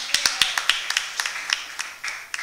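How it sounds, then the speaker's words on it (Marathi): An audience at a photography contest awards ceremony claps in sparse, separate hand claps that thin out and become irregular, with no steady roar of applause. "तुम्ही टाळ्या वाजवत आहे"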